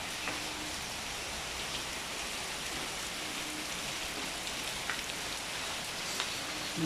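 Steady rain falls outside a room, a dense, even patter of drops that continues unbroken throughout, with occasional sharper drips standing out from the wash.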